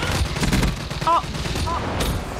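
Gunfire in Black Ops III, a loud rumbling spray of shots under busy game noise, with a brief voice in the middle of the clip.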